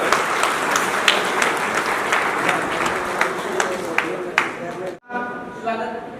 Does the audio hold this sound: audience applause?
yes